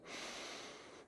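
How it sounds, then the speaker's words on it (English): One sharp, breathy inhale taken during a torch press exercise, close and airy and lasting about a second. "I'm trying to bring some breath into it, so maybe I can get a few reps out of one breath out, so I breathe in."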